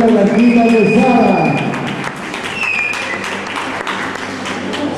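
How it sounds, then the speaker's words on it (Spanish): Guests at a baptism party clapping together, the applause loud at first and then thinning out, with people talking through it. "El aplauso para Doña Blanquita Quesada."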